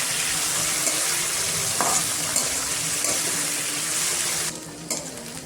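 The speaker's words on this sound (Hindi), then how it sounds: "ड्राई फिश को भी मैं 2 मिनट फ्राई कर लेंगे।" Dry fish frying in a pan with carrots and beans, giving a steady, close sizzle with occasional stirring scrapes and a brief drop in intensity near the end.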